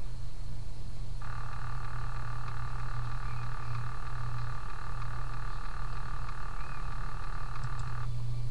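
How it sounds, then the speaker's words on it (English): A lightsaber sound effect in a sound test, a steady buzzing hum lasting about seven seconds over a constant low background drone, moderately loud and unbroken. "Here's what a lightsaber sounds like."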